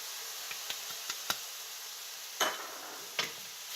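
Oyster mushrooms with pepper, salt and seasoning being mixed in a pan, a low sizzle under a handful of light ticking spoon taps and two louder scraping stirs, close up with no talk.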